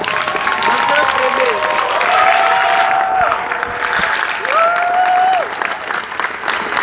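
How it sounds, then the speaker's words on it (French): A conference audience gives a standing ovation at AIF 2022: steady, dense applause from a large crowd throughout, with cheering and a few voices calling out over the clapping. "on va faire standing ovation, on va se lever pour applaudir Yann Amos"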